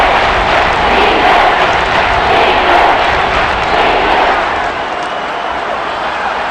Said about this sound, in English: this crowd's going to get even louder